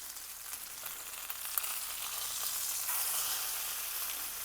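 Chicken pieces frying in a pan for a Cajun chicken fricassee give a steady, close hiss and sizzle that swells slightly toward the end, with no talking.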